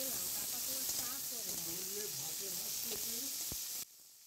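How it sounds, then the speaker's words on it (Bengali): Carrot and bean pieces frying in a wok give off a steady, close broadband sizzle and hiss that lasts almost to the end, under a voice talking over it. "এবার কড়ার মধ্যে গাজর আর বিনসের টুকরোগুলো দিয়ে দেয়া হলো।"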